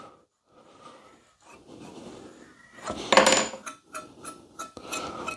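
Steel burnisher rubbed around the curved edge of a cabinet card scraper, giving a run of scraping, rasping strokes that swell and ease, ending in a few sharper metallic scrapes up close.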